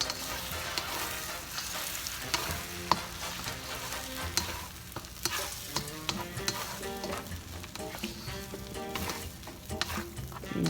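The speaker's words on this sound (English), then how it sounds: "Just scramble those eggs." Eggs scrambling in a hot pan for Thai shrimp pineapple fried rice, a steady sizzle broken by repeated spatula scrapes and taps, close and fairly loud with faint background music.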